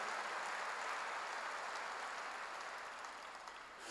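Steady applause from a church congregation during a sermon, a dense wash of clapping that holds level for a few seconds and then eases slightly toward the end.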